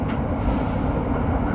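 Steady low rumble of a New York subway E local train running along the 6th Avenue line, a loud continuous roar of wheels and car body with no talk.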